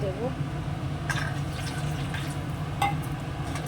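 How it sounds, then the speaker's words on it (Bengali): Water being poured into a cooking pot of curry, a continuous splashing trickle with a few brief clinks, heard close. "দিয়ে দেবো জল আর একটু"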